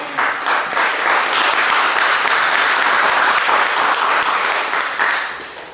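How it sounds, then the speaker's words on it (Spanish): A church congregation breaks into sustained applause for the Lord, dense clapping filling the room steadily for several seconds before tapering off. "Denle un aplauso al Señor"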